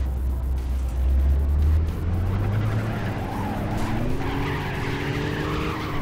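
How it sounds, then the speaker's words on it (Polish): A car in City Car Driving drifts with a sustained, rising tire squeal over a loud engine roar near four thousand rpm, continuous and close throughout. "No i taki tu drifting jest."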